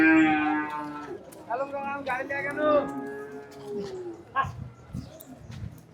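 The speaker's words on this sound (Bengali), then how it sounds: "এটা গরু জাত গরু আছে।" Cattle at the Rajshahi city cattle market give drawn-out, wavering moos, clearest at the start, amid a crowd whose voices and chatter carry on throughout.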